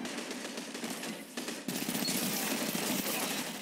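Submachine gun fire in a video game, a fast, continuous automatic rattle in quick bursts, fairly faint and distant-sounding.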